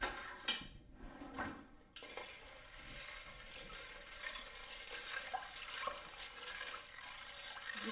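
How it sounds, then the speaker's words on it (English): Tap water running and splashing as beans are rinsed for pasta e fagioli in a home kitchen, quiet and close, starting with a couple of clatters before settling into a soft, steady rush. "Now I rinse a little bit."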